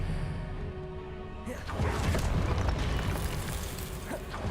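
A Confringo blast goes off in a Harry Potter video game: after a steady background hum, a loud broadband burst erupts and sustains as a rumbling, crackling roar through the rest of the clip.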